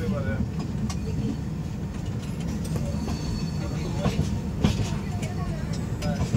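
A train runs at moderate speed as it approaches NJP station, a steady low rumble with rhythmic wheel clatter and rattling carriages, heard from inside with speech over it.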